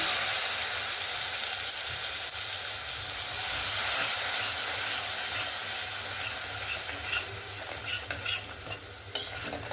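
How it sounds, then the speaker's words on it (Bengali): Spice masala frying in a pan with mutton stock added bit by bit for a mutton curry, a continuous loud sizzle and hiss with stirring scrapes, growing choppier toward the end as the spoon works the paste. "সামান্য সামান্য করে জলটা দেব আর মশলাটাকে সুন্দরভাবে কিন্তু কষিয়ে নেব।"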